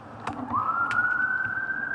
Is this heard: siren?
yes